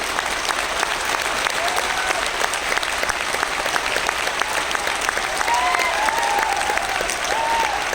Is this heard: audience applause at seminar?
yes